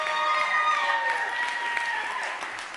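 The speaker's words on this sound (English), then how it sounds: "give the Schusters a round of applause" Brief church congregation applause for the Schusters during a sermon service, a short burst of clapping with a few whoops and voices mixed in that fades toward the end.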